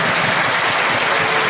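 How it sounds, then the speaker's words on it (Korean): Steady crowd applause at a church police choir hymn-singing concert, dense clapping from many hands sustained throughout, fairly loud and even with no voices on top. "뜨거운 박수로 다시"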